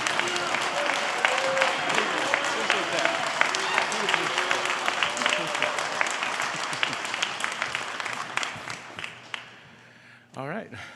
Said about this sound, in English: please give him a round of applause and a warm welcome